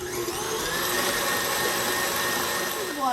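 An electric mixer beating nutmeg into sponge cake batter, a continuous loud motor whir that holds steady throughout.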